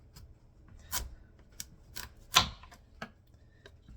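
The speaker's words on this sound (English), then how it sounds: "I'm gonna just cut the top off, and then what you want to do is cut it where the curve ends." A knife cuts down through the top of a fresh, unripe butternut squash on a board, giving a series of irregular crisp crunches and clicks, close but faint, with no one talking.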